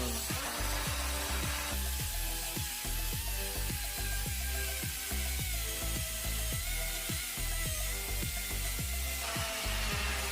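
A budget cordless drill with a 25 Nm brushed motor bores into wood under load, its whine grinding unevenly with repeated strained surges and stalls as the battery cuts out, alone and close.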